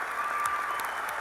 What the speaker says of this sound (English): Please join me in a round of applause for our 2017 Master's, Certificate of Advanced Studies,